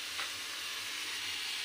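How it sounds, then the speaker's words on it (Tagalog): Tomatoes sauté in a hot pan, cooked ala tinola style with clams, giving a loud, close, steady sizzle with no talking over it. "Ginagisado ng kamatis"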